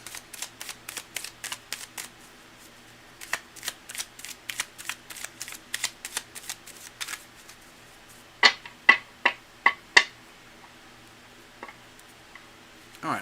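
A deck of tarot cards is shuffled close by in quick, crisp bursts of snapping and clicking, with short pauses between runs and a few louder, sharper flicks near the end.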